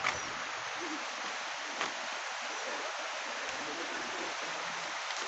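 A stream flows along a trek route near a waterfall at Visapur in Pune, a steady, soft rushing hiss of running water that continues evenly from start to finish with no clear voices.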